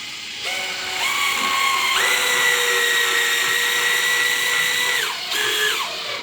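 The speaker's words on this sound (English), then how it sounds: "put your drill on a slow setting. I start with the back screw so it doesn't pivot and twist this sucker. And just screw it down." A power drill on a slow setting drives screws to fasten whitetail deer antlers onto a form's skull plate, a steady rising whine in several long runs with brief pauses between, close and loud.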